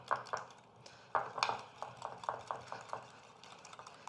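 Lemon juice is mixed into buttermilk in a bowl for gingerbread waffle batter, giving soft, quiet clinks and taps of a utensil against the bowl in an uneven rhythm.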